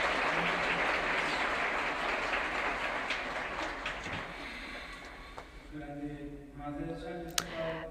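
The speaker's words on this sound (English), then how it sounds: "so they also deserve a round of applause." An audience at the UNWDF2024 closing ceremony claps in a dense, sustained round of applause that gradually thins and fades out, with a few isolated claps and faint voices near the end.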